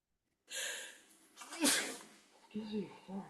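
A single sharp sneeze bursts out after a quick inhaled breath, followed by some breathy sounds and a brief voice.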